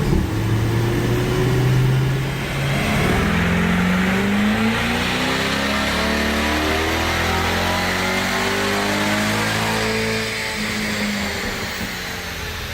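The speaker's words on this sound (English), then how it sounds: "With the mechanical work completed, Vlad straps the car back down to the dyno to dial everything in via HP Tuners." A Magnuson supercharged C8 Corvette on a chassis dyno climbs through repeated rising revs, its engine note sweeping upward in pitch with a loud, close whine and roar before easing off near the end.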